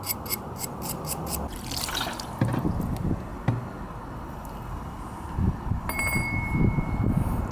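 Water runs and trickles over a steel scooter CVT part being rinsed after wire brushing, a steady close splashing with a few metallic clinks and drips throughout.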